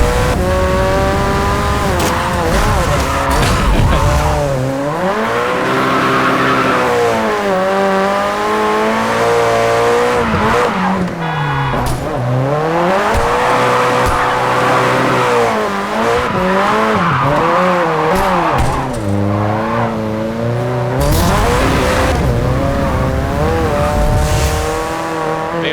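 In the Japanese Drift Master video game, a drift car's engine revs hard and rises and falls continuously while the tires squeal through long slides, loud and up close throughout with no talking.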